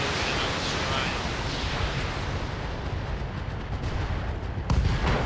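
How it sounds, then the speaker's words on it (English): Ammo explosion on an Orion mech in a BattleTech-style game, dense booming and crackling gunfire blending into a continuous loud roar, ending with a heavier burst. "Trying to get the ammo explosion on this Orion."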